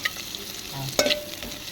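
Onions fry in hot oil for chicken curry while being stirred, close sizzling with a scraping stir and a sharper clatter near the end, brief and with no voices.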